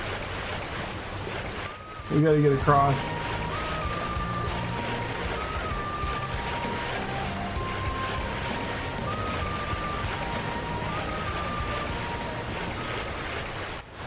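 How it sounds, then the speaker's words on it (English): Rushing water current and waterfall in Xenoblade Chronicles X form a steady broadband wash through the whole stretch, with game tones and a brief voice over it. "Oh, there's a bit of a current here. Freaking waterfall."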